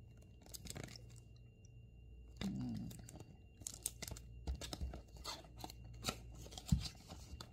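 Box of Givenchy Irresistible Eau de Parfum, 100 ml, being opened: close, quiet crinkles, paper tearing and cardboard scrapes in scattered bursts, with a few louder rustles.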